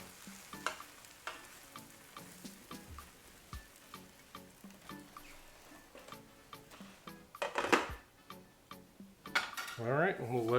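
Grilled cheese sandwich being flipped in a pan, with spatula scrapes and metal clinks over a soft sizzle, scattered knocks and a louder clatter near the end, fairly quiet and close, no talking.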